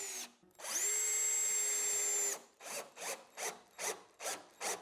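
Power drill driving screws into a wooden portable stage bed frame: one long, loud whining run, then a string of short, rhythmic bursts close by.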